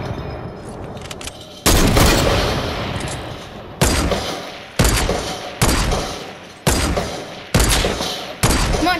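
Gunfire in Fortnite: a burst of loud, close shots, then a run of single sharp blasts spaced about a second apart, each followed by a decaying echo, with no talking.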